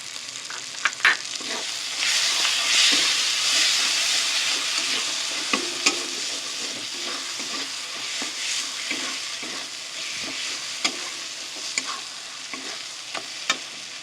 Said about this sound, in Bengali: এর মধ্যে আমি চিকেনের কিমাগুলো দিয়ে দেবো, দিয়ে ভালো করে কষিয়ে নেব।